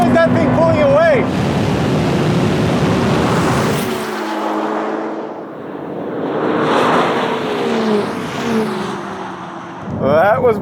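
Ferrari 488 Pista and 296 GTB accelerating side by side in a drag race, engines roaring and rising in pitch through gear changes, passing close then fading with wind noise, with excited talk over it.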